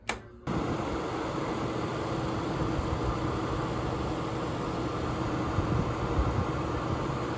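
A Broan BP27 bathroom exhaust fan running after a motor replacement, a steady close broadband whoosh of moving air with a faint motor hum, starting after a brief click and continuing evenly throughout.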